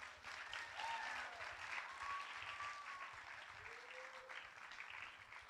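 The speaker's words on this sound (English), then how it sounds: "One more big round of applause." An audience at an evening arts academy performance applauds steadily, a dense, fairly quiet clatter of many hands with no voices over it.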